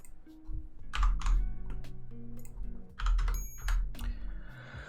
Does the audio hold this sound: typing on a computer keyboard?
yes